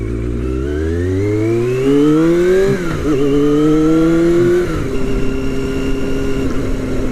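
A motorbike accelerates on a winter road past a quarry, its engine revving up through the gears in rising sweeps, then settling into a steady cruise, loud and close throughout with no talking.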